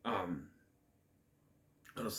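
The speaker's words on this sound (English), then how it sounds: "clear my throat" A short throat clearing up close, followed by quiet, then a brief vocal sound at the end.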